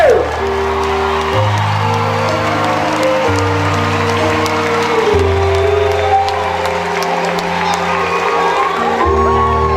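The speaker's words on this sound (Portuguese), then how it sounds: "Aplauda bem forte o nome dele" Loud applause and cheering from a church audience, with whoops and shouts over dense clapping, all layered over a sustained musical backing.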